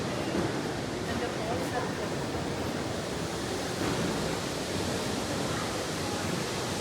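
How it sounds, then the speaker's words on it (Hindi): A small decorative waterfall at an airport entrance surrounded by greenery gives off a steady, loud broadband rush of falling water that continues unbroken for the whole stretch. "सामने है प्यारा सा छोटा सा वाटरफॉल लगा हुआ है, चारों तरफ ग्रीनरी ग्रीनरी"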